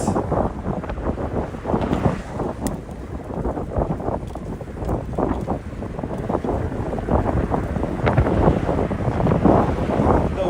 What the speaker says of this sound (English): What is up with this fucking wind?